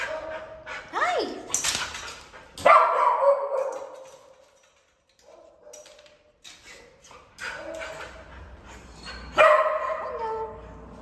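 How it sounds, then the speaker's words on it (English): Several dogs bark and yip in loud close bursts, with whimpering between barks and people talking nearby, at a dog area on a volunteer trip in Puerto Rico. "All the pups are really good."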